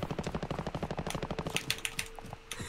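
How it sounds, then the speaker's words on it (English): Rapid automatic gunfire in the Call of Duty Warzone video game: dense, loud bursts of shots rattle close by, then thin out into a few scattered cracks near the end. "I'm being shot at."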